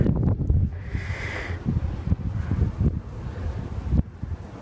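Wind gusting outdoors in a summer vegetable garden among tomato plants, a steady low rush and buffeting across the microphone with rustling, fairly close and continuous, no talking.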